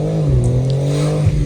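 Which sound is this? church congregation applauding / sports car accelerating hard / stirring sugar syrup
sports car accelerating hard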